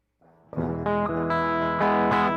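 Clean-toned Les Paul electric guitar plays a few ringing notes and chords up close, each new strum layering over the sustaining one.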